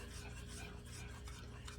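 Dumpling batter of flour mix and milk being stirred together in a bowl, a steady close scraping and rasping that continues throughout without talk.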